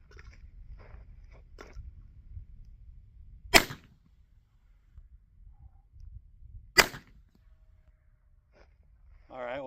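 Two sharp, loud gunshots from a 111-year-old H&R top-break model 843 revolver chambered in .38, fired on a string, spaced about three seconds apart, with quiet handling clicks and faint murmurs between them.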